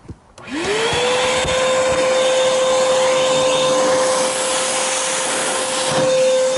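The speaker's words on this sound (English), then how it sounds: "take your vacuum cleaner, put the hose into the exhaust" A vacuum cleaner, its hose in the exhaust of a MerCruiser MAG 350 Bravo 3 boat engine, starts up, its motor whining up to a steady high pitch and roaring loudly and continuously close by.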